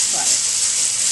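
An egg foo young patty fries in hot oil in a pan, giving a loud, continuous sizzle with a brief bubbling burst near the start.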